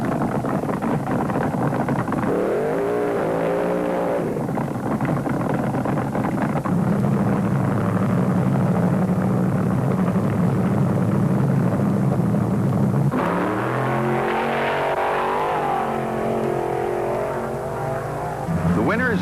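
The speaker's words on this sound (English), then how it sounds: "Two more cars and two more burnouts brought the Michigan boy Bob Farmer up to the line to go against the Sear and Schofield car." Vintage 1973 drag racing cars at an IHRA Northern Nationals strip, loud sustained engine roar from burnouts and launches with a second surge later, buried in heavy wind and crowd noise.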